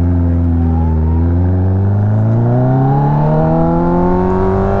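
Kawasaki ZX14R motorcycle engine pulling hard under acceleration, a loud steady drone that climbs in pitch through the rev range, with a brief dip near the start where a quick shift cuts in.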